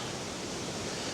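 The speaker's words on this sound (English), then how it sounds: "I can hear water." Steady broadband rush of water from a nearby waterfall swollen after a storm in South Wales, a continuous even roar with no breaks or voices.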